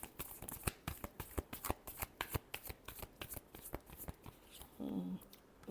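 Tarot cards are shuffled by hand in a rapid series of crisp riffling slaps and flicks, close and fairly quiet, ending with a brief soft rustle.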